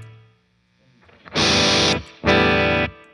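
An electric guitar rings out twice, the first chord clean and fading quietly, then two loud, heavily distorted strums through a ProCo Rat 2 pedal, each held briefly and cut off.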